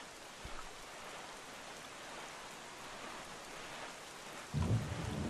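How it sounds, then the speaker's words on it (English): Steady rain falls in a Wind Waker HD game world, a soft even hiss with a low thunder rumble early on and a louder roll of thunder near the end. "The world continually rains and is dark, which is strange."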